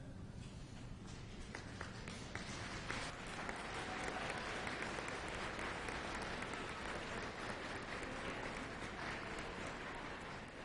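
Sustained, dense applause from a large crowd at a college graduation ceremony, with graduates clapping for their families. It runs steadily through the whole stretch at an even level, with no speech over it.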